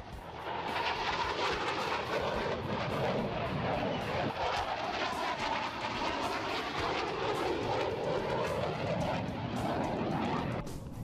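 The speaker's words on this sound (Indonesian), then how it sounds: "termasuk demonstrasi jet tempur terbaru buatan dalam negeri KF-21" A KF-21 fighter jet flying in an air show demonstration at a South Korean defense exhibition, a loud sustained engine roar with shifting pitch, continuous and fairly near, crowd noise faintly mixed underneath.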